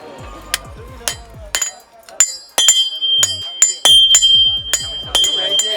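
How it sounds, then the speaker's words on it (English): Sharp metallic hammer blows ring out one after another as a small metal knife is hand-forged, uneven in pace and loud, each strike leaving a bright clinking ring. "The guy is hitting as hard as he can with this hammer"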